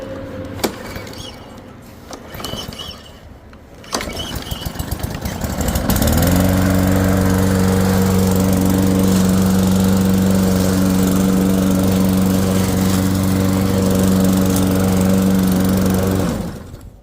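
A petrol lawn mower used on a yard gives a few clicks and rattles, then its engine catches and settles into a loud, steady drone, running evenly until cutting off near the end.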